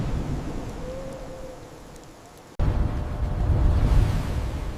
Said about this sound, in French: Des éclairs immenses déchirent le ciel sombre du royaume de Northumbrie.